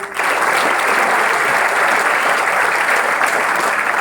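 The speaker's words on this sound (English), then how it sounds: "Can you have a clap for him?" Seminar attendees at an education event for parents and students applaud a student named Athar, a sudden, loud, sustained round of clapping from a sizeable crowd that continues evenly to the end.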